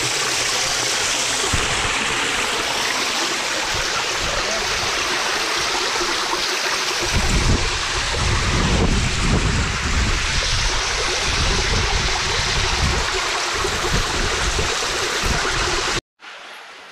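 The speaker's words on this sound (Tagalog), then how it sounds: "Nandito kami ngayon sa Candies Falls na matatagpuan sa Barangay Batasan, San Jose Occidental, Mindoro" Candies Falls in Barangay Batasan, San Jose, Occidental Mindoro, roaring loudly and continuously up close, a dense rushing wash of falling water that cuts off abruptly near the end.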